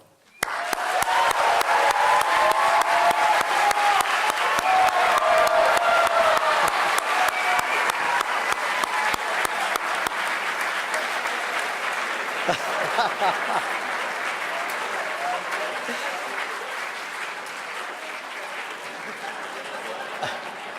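Long, sustained applause from an audience at the 2016 graduation ceremony for the William E. Boeing Department of Aeronautics and Astronautics class, strong and dense at first, then gradually thinning, with scattered cheers and laughter.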